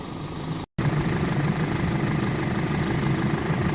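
A repaired 2013 Audi Q5 2.0T TFSI four-cylinder turbo engine, fixed after a timing chain failure and cylinder head work, idles smoothly and evenly, heard close up as a steady low hum with one brief dropout.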